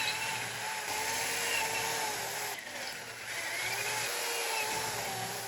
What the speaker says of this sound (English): I will drill 4 holes in 2 flat bars.